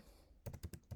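Several quick keystrokes on a computer keyboard tap out an entry in a web form. A short run of close, soft clicks with a brief gap comes after a quiet lead-in, and no one speaks.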